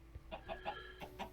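Short, clipped clucks from a quartz chicken in the modded Minecraft pack Sky Factory 3, about five evenly spaced calls, close and fairly quiet, with no talk over them.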